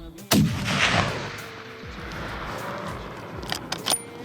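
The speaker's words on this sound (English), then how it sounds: "and John made a great shot" A single sharp, loud rifle shot cracks out on a red stag hunt in New Zealand, followed by a fading rumble and a few faint clicks and knocks.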